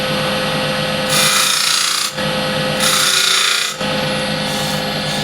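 Loud, continuous rasping of sandpaper against a walnut burl box spinning on a lathe, swelling in two long bursts over a steady mechanical whir.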